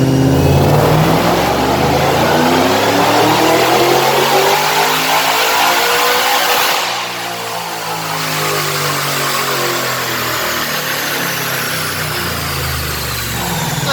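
A Ford Shelby GT500 with a TVS supercharger revs hard on a dyno, a loud sustained engine roar with rising harmonics, easing briefly midway before continuing at high revs.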